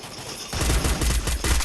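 Rapid bursts of automatic gunfire in a video game erupt after a quiet half-second, firing in loud, close, repeated volleys with no talk over them.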